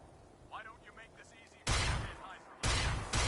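Bursts of gunfire from a gun in Fallout 4, two loud, dense volleys close by, following a stretch of quieter game sound with a voice-like warble.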